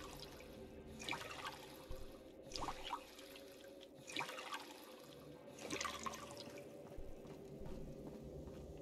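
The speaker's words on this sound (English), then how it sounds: "I'll take a bunch of dirty water." Dirty water being collected in Fallout: London makes faint trickling and gurgling with soft dripping, rising and falling in low bursts over a quiet hum.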